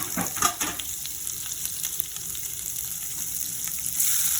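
Chana dal and chopped onion frying in hot oil for a Mumbai-style potato curry, a steady close sizzle with a few stirring scrapes near the start.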